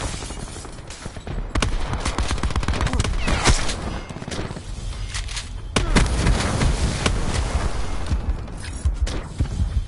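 Shotgun fire in Call of Duty Black Ops 4 sounds as repeated loud blasts amid a busy, continuous barrage of gunfire and game noise throughout.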